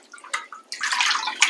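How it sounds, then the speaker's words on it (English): A wig is swept back and forth through soapy water in a basin, giving short splashy swishes and light drips, close and fairly loud, with a longer sloshing surge near the end. "So I usually just kind of do a sweep in the water a few times"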